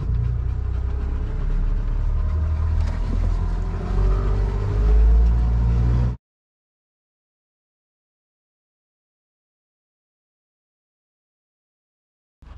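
A small outboard motor on a shrimping boat runs steadily and loud for about six seconds, with a low rumbling drone, then cuts to silence.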